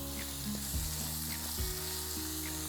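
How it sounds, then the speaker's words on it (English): Diced onion and butter fry in a pan with a loud, constant sizzle. Low tonal hums and a couple of brief knocks run beneath it, and no voices are heard. "Straight away I'm going to add in some diced onion, some butter, and just let that start to become translucent and cook through."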